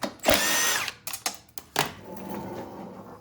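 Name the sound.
power drill removing bolts from Cub Cadet string trimmer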